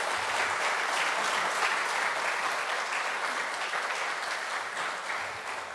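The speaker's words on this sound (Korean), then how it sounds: "우리 박수로 환영해 주시죠." A church congregation at a Sunday service applauds to welcome the pastor, giving full, dense clapping that fills the space steadily and fades slightly toward the end.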